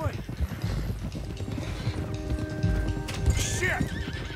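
Horses in Red Dead Redemption 2 neighing and whinnying over steady clip-clopping hooves, loud and close, with a busy outdoor game background.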